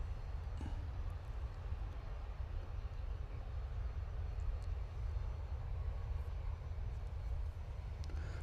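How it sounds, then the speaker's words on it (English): A steady, broadband roar of a jet aircraft at Manchester Airport, heard from a distance on a bank holiday, constant throughout with low rumble dominating and no speech. "Right, so we have a posh jet"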